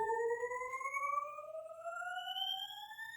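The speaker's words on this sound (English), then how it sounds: "this little riser that I put in just to come in right before the drop" A synthesized riser in a beat climbs steadily in pitch just before the drop, a clean rising tone of stacked harmonics that builds on its own for a few seconds.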